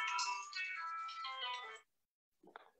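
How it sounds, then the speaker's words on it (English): A mobile phone ringtone plays a bright, multi-toned electronic melody for nearly two seconds, stops abruptly, then gives a brief softer chirp after a short silence, heard indoors during a quiet conversation. "There's my phone gone off."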